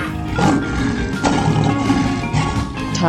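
A lion roars in a 3D animal slide video game, a dense growling roar that holds loud and close over game music for about three seconds, with no talking.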